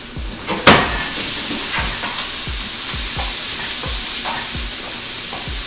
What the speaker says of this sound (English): We're going to brown that beef is the main thing we want to do.